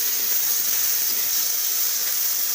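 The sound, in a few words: moth beans roasting on a hot griddle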